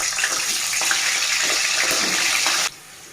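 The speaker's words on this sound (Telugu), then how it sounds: "వంకాయలు అయితే ఇలా ఫ్రై అవుతున్నాయండి" White brinjal (eggplant) pieces frying in hot oil give a steady, dense sizzle that runs unbroken for most of the stretch, then drops away sharply near the end.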